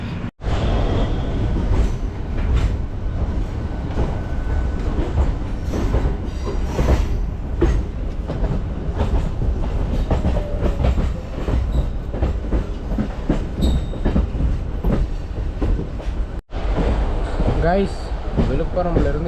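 A MEMU passenger train running from Tambaram to Trichy rumbles steadily with rhythmic wheel clatter and occasional squeals, recorded from onboard, with a brief dropout near the end and voices in the background.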